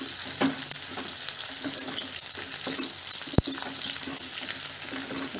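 Pieces of onion, cut large, sizzle steadily in a pan while being cooked for a tofu and green peas masala curry. The frying hiss is continuous and fairly quiet, broken by occasional stirring clinks and one sharp tap.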